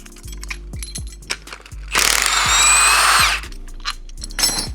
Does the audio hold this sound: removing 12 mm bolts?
yes